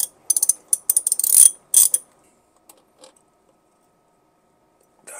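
A ratchet wrench loosening the cable connections on an EG4 all-weather wall battery, heard as several quick bursts of sharp clicking close by, followed by a few isolated ticks and a last short burst.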